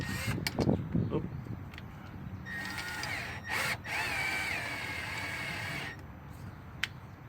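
A power tool, likely a drill or impact driver, runs in short bursts tightening the bolts on a vehicle's running board, with clanks and handling noises before the steady whirring that lasts several seconds.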